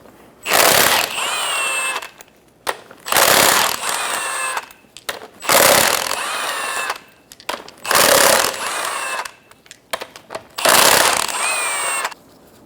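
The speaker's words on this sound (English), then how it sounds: "Using a 19mm socket, remove the 5 lug nuts." An impact tool spins 19mm lug nuts off the front wheel of a 2003-2007 Honda Accord, sounding as five loud separate bursts of rattling, hammering whirr, each about a second long, with short quiet gaps between them.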